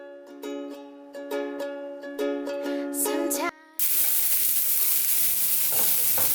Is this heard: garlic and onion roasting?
yes